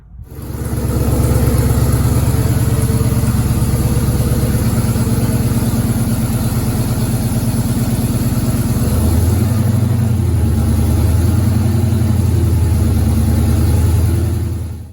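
A Dodge Hellcat engine idles steadily and loud, a deep continuous rumble with a slight shift in tone partway through as the car backs up, heard alone without voices.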